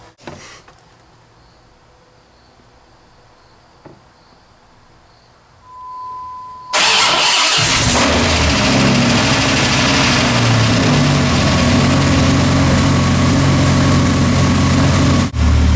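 A car engine fitted with a new turbo, pre-filled with oil, cranks and catches after a quiet stretch, then settles into a loud, steady idle that runs close by for the rest of the span.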